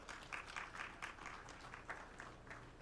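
Applause from a conference audience at a governance summit, a faint, steady patter of many hands clapping heard from a distance.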